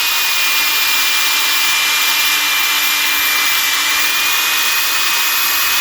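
A power sander whines steadily against a BMW Z3 headlight lens with P500 abrasive, one loud, unbroken close-up drone with no pauses or talk.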